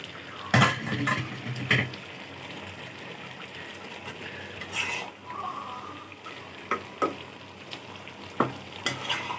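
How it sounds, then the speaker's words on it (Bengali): Dried fish (shutki) being stirred in a hot cooking pan: repeated scraping and clattering spoon strokes over a constant sizzle, close and fairly loud, in irregular bursts. "শুটকিগুলো দিয়ে আমি নেড়ে চেড়ে দিচ্ছি।"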